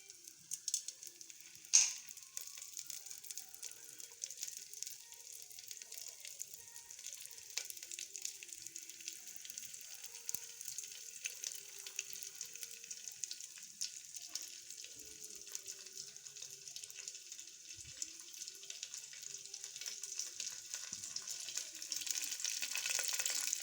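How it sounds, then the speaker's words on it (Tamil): Mustard seeds and urad dal sizzle in hot oil inside a clay pot, a soft continuous crackling hiss with a few small pops, faint and steady and gradually growing a little louder. "எண்ணெய் ஊற்றுனதுக்கப்புறம் கடுகு கடுகு உளுந்து"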